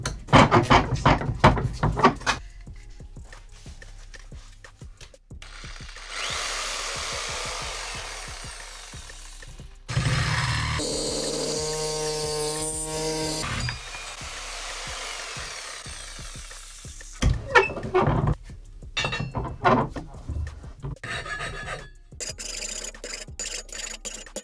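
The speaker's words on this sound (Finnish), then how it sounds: "Noni, nyt on slitti sahattu" A saw cuts a slit into a metal Kelly bar scooter handlebar tube with bursts of rhythmic rasping strokes. A longer stretch of steady grinding cuts in partway, then the strokes come back, close and loud, with pauses between them.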